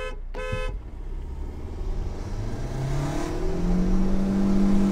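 A two-litre diesel Kodiaq engine revs hard and accelerates during an informal road race against a Chery Tiggo 8 Pro, its rising drone building steadily and loud after a brief horn toot at the start.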